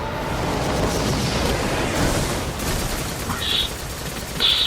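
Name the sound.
gunfire from the video game Destiny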